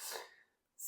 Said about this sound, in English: I don't know if you could just hear my dog. She just sneezed just then